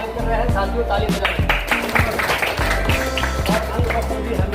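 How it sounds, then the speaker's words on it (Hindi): An audience claps at a welcome ceremony held by a disability association in honour of an MP: steady rhythmic clapping over a thumping beat, with talk mixed in throughout. "साथियों ताली बजाएं"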